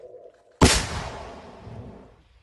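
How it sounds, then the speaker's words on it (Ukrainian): A single sharp gunshot cracks out after a brief hum, then rolls away in a long, fading outdoor echo, near the front line in the Bakhmut area. "Постріл!"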